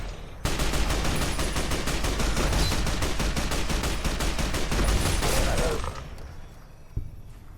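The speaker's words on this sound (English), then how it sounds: "you can fire this weapon" The All-American rifle in Fallout: New Vegas fires in a long, loud stream of rapid shots for several seconds, then cuts off, leaving a quiet tail with one late click or thud.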